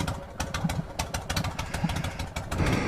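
A loud motorcycle engine idles steadily at close range before a highway ride, a continuous rumbling drone with a slight mechanical clatter and small rises in level near the end.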